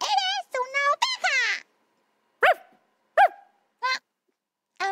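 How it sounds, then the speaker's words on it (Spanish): A German shepherd dog sound in a children's television show: a run of high, yappy barks and yips, first in a quick cluster and then in single spaced barks, loud and close. "¡Soy un perro ovejero alemán!"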